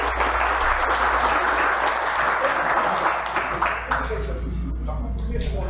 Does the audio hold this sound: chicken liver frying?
no